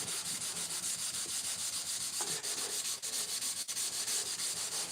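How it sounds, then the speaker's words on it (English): Someone scrubbing a kitchen counter, a steady, close, rasping rub that repeats in even strokes with a few brief pauses. "my counter looks better, but I need to still scrub it more"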